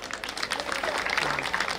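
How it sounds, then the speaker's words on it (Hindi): Audience applause at a cultural evening program, a brief burst of scattered hand clapping from a crowd, moderate and continuous for a couple of seconds. "जोरदार ताली बजाओ भाई"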